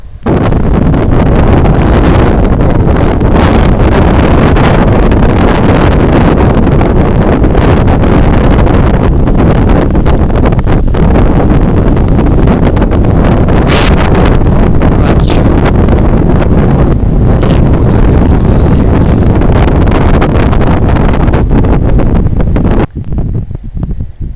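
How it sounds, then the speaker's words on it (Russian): Strong cold wind buffets the microphone in a continuous loud roar, gusting unevenly for the whole stretch before briefly easing at the end. "ветер холодный сегодня"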